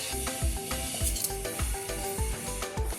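Leftover roti pieces being fried in hot oil, a steady close sizzle with repeated stirring or tossing strokes in a rhythmic pattern, no talking.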